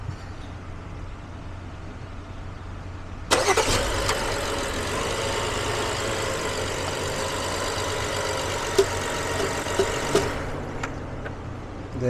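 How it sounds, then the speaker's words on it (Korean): A BMW X5 E70 petrol engine cranks and catches abruptly, idles roughly for several seconds with a few clicks, then cuts out into quiet, heard close up. "네, 시동이 꺼졌네요. 다시 걸어보세요."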